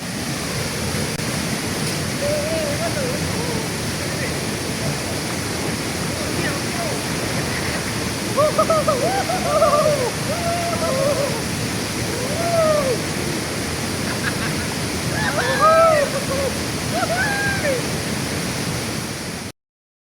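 A constant roar of falling water at Sengkuang waterfall in Kepahiang, Indonesia, fills the scene, with people talking over it now and then.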